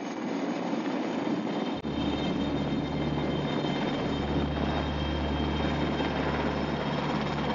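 A steady, loud Puma helicopter drone with a low rotor hum, constant throughout after a brief dip near the start.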